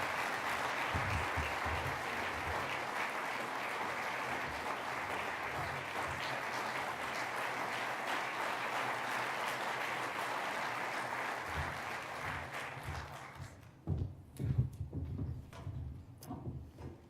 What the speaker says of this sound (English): Please help me with a round of applause.